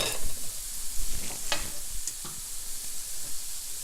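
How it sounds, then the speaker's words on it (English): Mushrooms and onions cooking in melted butter in a pan for a creamy chicken orzo, with a soft sizzle and a few sharp stirring scrapes and clacks near the start, then a steadier low fry. "We're gonna add our mushrooms and onions with some melted butter."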